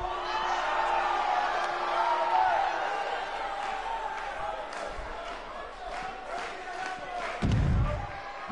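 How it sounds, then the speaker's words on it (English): Video-game wrestling arena crowd for a BCW show, a steady, dense roar of cheering and whooping that swells and dips, with a heavy thud near the end and speech woven through the noise. "record-setting crowd here for BCW tonight"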